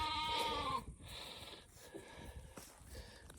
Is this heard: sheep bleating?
yes